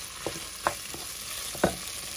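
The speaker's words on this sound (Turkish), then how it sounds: "Şimdi pirincimizi kavuruyoruz ve suyumuz burada kaynıyor." Rice being sautéed in a pot over a steady faint sizzle, with a few soft scraping stirs spaced irregularly across the clip.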